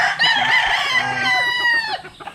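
A rooster crows among broodcock gamefowl on a chicken farm, one loud, close, drawn-out call with clucking fowl around it.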